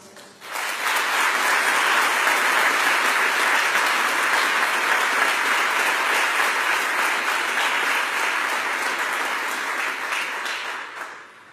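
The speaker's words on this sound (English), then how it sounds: "please join me in a well-deserved round of applause for these outstanding non-commissioned officers" Sustained audience applause at a military ceremony honoring non-commissioned officers in Iraq, a steady dense wash of clapping that swells quickly, holds evenly for about ten seconds, then tapers off at the end.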